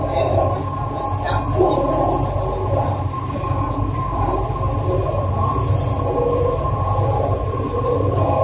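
Chennai Metro underground train running between stations, a steady loud rumble of wheels and rail with squealing tones, continuous throughout with no talk.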